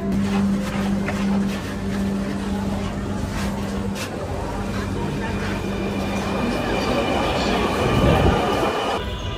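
A Dhaka metro rail train bound for Motijheel runs with a continuous rumbling, whirring ride noise heard from inside, steady throughout with a swell near the end, while voices talk over it.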